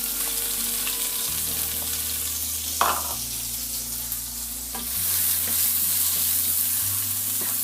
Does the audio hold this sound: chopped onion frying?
yes